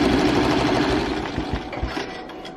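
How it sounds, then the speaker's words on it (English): An embroidery machine stitches the wing of a Christmas angel in a loud, steady mechanical hum with rapid needle clatter, heard up close and without talk. "I can go ahead and press start, and then it's gonna go ahead and stitch"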